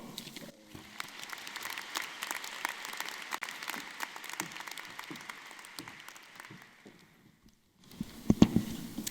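A large audience at a university new student convocation applauds a student speaker with sustained, dense clapping that fades to near silence, followed by a few close bumps and rustles.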